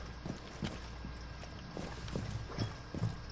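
Footsteps in a one-versus-one multiplayer video game match, a series of soft, muffled, fairly regular thuds over low background hiss, with no talking.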